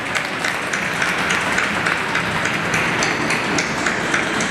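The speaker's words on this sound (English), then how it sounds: "Give her a big round of applause" The crowd at a dolphin show applauds a performing dolphin, a steady wash of many hands clapping at a distance that stays even throughout, with no voices standing out.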